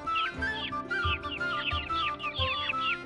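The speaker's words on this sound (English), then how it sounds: "And there's the rooster." A rooster and chickens cluck in short repeated bursts, fairly close and quiet, with several calls layered over a soft low background.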